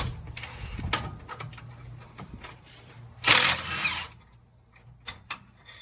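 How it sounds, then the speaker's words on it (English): A wrench breaks a bolt loose on an LS engine during a cylinder head and cam teardown: a few scattered metallic clicks, then a loud, harsh burst lasting under a second, followed by faint ticks. "I'm gonna just go ahead and break that bolt loose"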